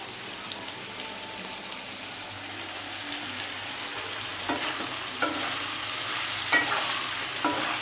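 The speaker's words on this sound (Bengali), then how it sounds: "এই তেলেই আমার চার বেগুন ভাজা হয়ে যাবে" Eggplant sizzling in oil, a soft continuous crackle with a few sharper spatters and stirring clicks, close up and without speech.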